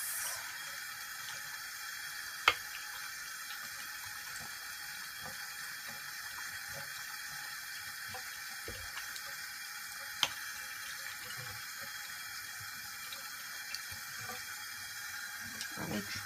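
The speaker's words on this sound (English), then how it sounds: "Run it under water and then run it on the soap again. I'm gonna go ahead and rinse the soap." Tap water runs steadily into a sink while a bar of soap is rinsed, a constant close hiss with a few small clicks and knocks of handling throughout.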